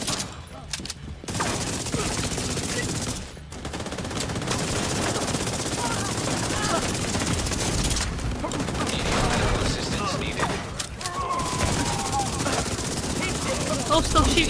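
Sustained automatic gunfire from the video game The Division 2, dense and loud throughout with only brief gaps, while players talk over the shooting.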